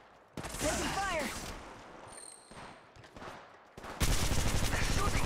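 Bursts of gunfire in the Apex Legends Mobile video game, loud rapid shots breaking in and out around a spoken voice line, with a heavy burst of firing at the end.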